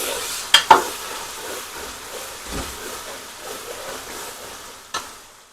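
Potatoes fry with a low, steady sizzle while sharp utensil knocks and scrapes of stirring land near the start and again near the end, close and with no talking.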